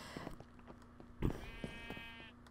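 Sheep bleating in a video game, a few short quiet bleats, one louder and wavering, over a soft steady tone and faint background sounds.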